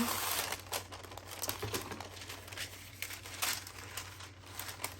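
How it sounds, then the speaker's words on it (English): Parchment paper is handled and crinkled up close in a run of irregular crackling bursts over a low steady hum. "let me grab regular parchment paper and I'll show you"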